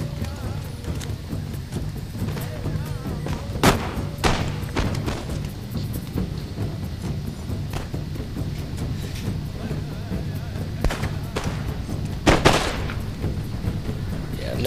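Units trading scattered pot shots in a Total War online battle, with a few sharp gunfire cracks and thumps, loudest briefly twice, over a steady low battle rumble.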